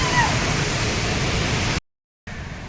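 Steady broadband roar of a waterfall, loud and continuous, cut by a brief silence before the rushing resumes.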